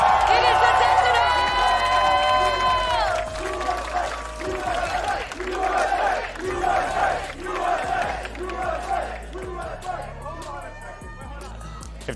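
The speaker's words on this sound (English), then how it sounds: "useless USA chants just popping up out of nowhere" An esports arena crowd at the Riot Games Arena during a VCT Americas Kickoff grand final roars and chants in rhythmic unison, a loud, echoing mass of voices filling the hall with a steady repeated cadence.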